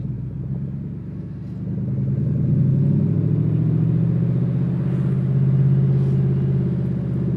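A Factory Five Roadster Mk II Shelby Cobra replica with a V8 and side pipes pulls away, its deep engine rumble swelling steadily as it moves off and holding a loud, even drone.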